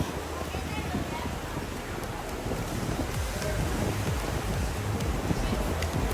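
Cool seaside breeze under a pier in Galveston, steady wind buffeting the microphone with a constant rushing roar and surf in the background, while people talk throughout.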